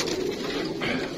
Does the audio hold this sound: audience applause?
no